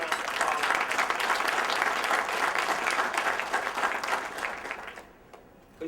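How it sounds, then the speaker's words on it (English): An audience at a firefighter luncheon bursts into sustained applause, dense clapping that fills the room for about five seconds before tapering off. "I want to give him a big round of applause"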